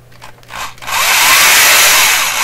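A power drill bores at an angle into the wooden cabinet of a 1928 RCA Victor Model 28V radio, a couple of short taps and rubs followed by a loud, steady grinding whir close by.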